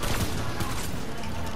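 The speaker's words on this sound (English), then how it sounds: "They shot a rocket." A burst of explosive gunfire-like blasts from a rocket fired in the video game Fortnite, dense and loud for the whole short stretch with no speech.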